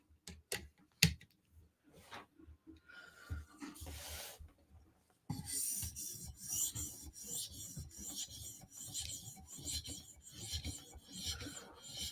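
A Spyderco Slysz Bowie knife blade drawn across an 800 grit sharpening stone, making rhythmic scraping strokes, sparse and separated at first, then a steady run of quick, close back-and-forth rasps.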